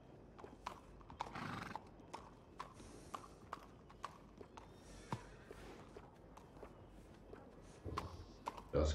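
A horse at a stable in the video game Red Dead Redemption 2 clip-clops with scattered hoof strikes and gives a whinny, close and moderately loud against a faint background, ending in a louder burst.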